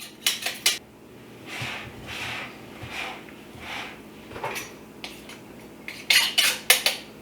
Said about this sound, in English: And then I use my knife, just stir this mixture around, see what's happening on the bottom.